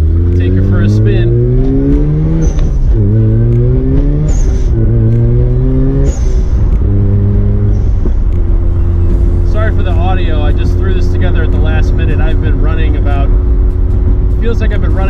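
A Mazda RX-8 rotary car driving, its engine note rising and falling through several revs before settling into a steady drone, loud and close throughout.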